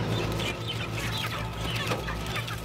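Hens in an industrial poultry house cluck continuously as birds are caught and crated, many overlapping voices over a constant low mechanical hum and ventilation roar, with no clear talk.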